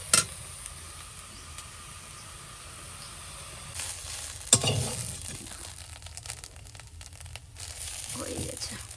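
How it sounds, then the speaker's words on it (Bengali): Ghetu leaves fry in oil with nigella seeds in a kadai. The sizzle is soft and steady and rises in a burst partway through, with rustling and stirring scrapes mixed in. "কড়াতে তেল দিয়ে ঘেটকুল পাতাটা দিয়ে দিয়েছি"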